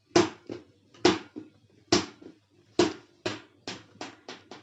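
A ball bounces on a hard surface about a dozen times, each bounce a sharp thud that gets quicker and softer as the bounces shorten, clear and close with no talking.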